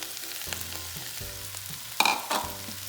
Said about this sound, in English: And then we're going to add our onions and our fresh shaved corn.